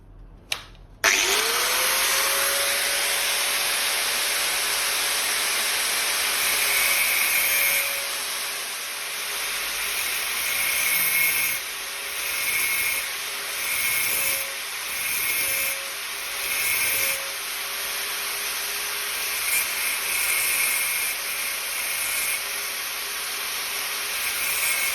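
An angle grinder cuts slits in metal for a homemade Look Keo pedal tool, a loud, close, continuous whine that starts abruptly, then breaks into short bursts and pauses later on, with no voices.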